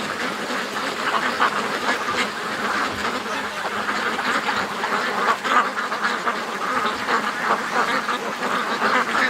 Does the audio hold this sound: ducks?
yes